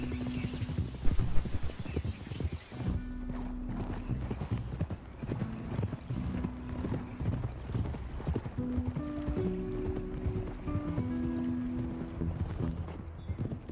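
Horse hooves clip-clop steadily in Red Dead Redemption 2, a close, rhythmic run of hoofbeats with an occasional whinny, while someone talks over it.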